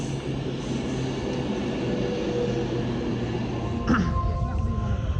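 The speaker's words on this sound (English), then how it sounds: "There are two trains approaching." An Avanti West Coast Class 390 train pulls into Stoke-on-Trent station, a steady rumble with a low hum throughout, voices murmuring on the platform, and a brief squeal of brakes near the end.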